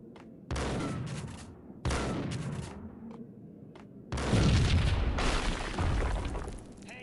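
Explosions in the video game Max Payne Mobile: a series of loud, close booming blasts with crackling debris, several bursts separated by brief pauses, the last long and heavy.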